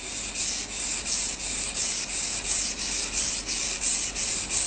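A kitchen knife is sharpened freehand on a whetstone without a guide rail, its blade rubbing in steady, rhythmic strokes of bright scraping, about ten passes, loud and close with no talking.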